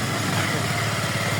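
A tractor-style motorbike engine runs at a steady idle, a close, continuous low rumble with rapid even pulsing throughout.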